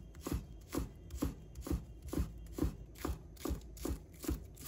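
A knife chops scallion whites into small pieces on a cutting board, about ten steady, evenly spaced thuds close up with no talking.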